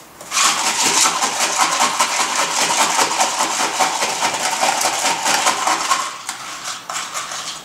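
A bar spoon stirs a mint julep of bourbon and mint in a glass, making a rapid, steady clatter of close metallic clinks that runs for several seconds, then eases off.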